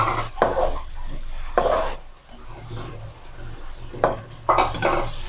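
Chicken goes into a pot of cooking food and is stirred, giving several scraping, clattering bursts of a spoon against the pot over a low sizzle, close and fairly loud.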